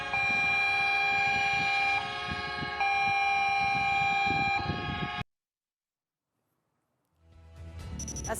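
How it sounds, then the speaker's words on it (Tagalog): Ship horns sound together in a synchronized salute led by the Philippine Coast Guard off Western Bohol, long sustained blasts layered in steady tones for about five seconds, then silence before another horn swells back in. "A synchronized horn salute there, led by the Philippine Coast Guard station in Western Bohol"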